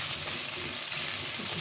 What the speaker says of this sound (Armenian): Կարտոֆիլը որ տապակում ենք, համովանում շոխարակի հետ։